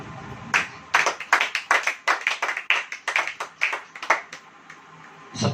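A church congregation claps together during a sermon. The claps come close and loud in a quick, slightly uneven run of many strikes, then trail off, with no voices.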